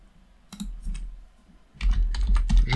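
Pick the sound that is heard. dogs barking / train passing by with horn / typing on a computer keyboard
typing on a computer keyboard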